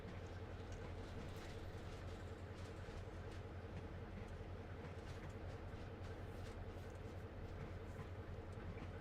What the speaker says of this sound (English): you guys can see this locomotive in action